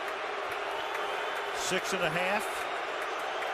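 Some 70,000 fans in a packed NFL stadium at a Steelers–Ravens night game boo a referee's call, a broad sustained roar beneath a commentator's voice.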